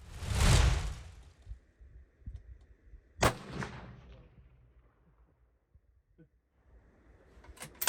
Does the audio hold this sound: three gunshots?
yes